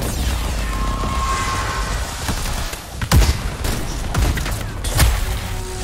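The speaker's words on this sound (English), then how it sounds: "Time to show them that really large gun." Heavy gunfire rolls through a combat scene in the video game Anthem, with two sharp, loud booms near the middle and end standing out above a dense, continuous bed of battle noise.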